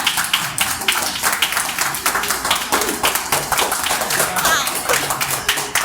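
An audience at a poetry performance in a coffee shop claps steadily for about six seconds, a close, busy patter of many hands with some voices mixed in.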